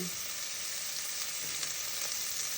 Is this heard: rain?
no